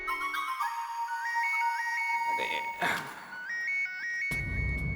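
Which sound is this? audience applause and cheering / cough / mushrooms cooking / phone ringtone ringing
phone ringtone ringing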